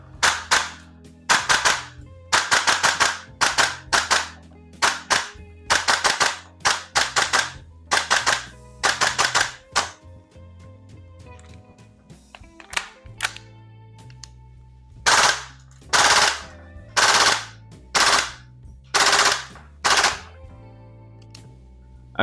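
Salvo Precision MCX Spear LT V2 gas blowback airsoft rifle fires at room temperature in loud, sharp bursts. Rapid volleys alternate with short gaps and a run of single shots, with no talk.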